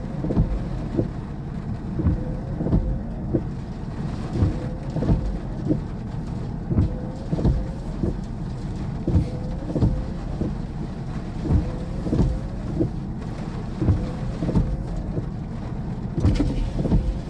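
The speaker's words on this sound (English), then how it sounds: "Some really heavy rain though." Heavy rain roars steadily through a severe thunderstorm with flooding in southern Iowa, a dense continuous wash broken by repeated low rumbling thumps of thunder or gusts, fairly loud and close, with no voices.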